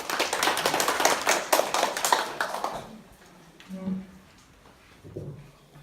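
An audience at a Seoul urban agriculture forum gives lively applause for about three seconds, then the clapping stops and quiet talk follows.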